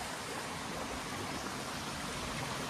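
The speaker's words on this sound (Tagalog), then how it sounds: "lakas ng buga ng tubig yun" Strong gush of spring water falling at a spring park in Siquijor, a loud, dense, unbroken roar close by, with no talk over it.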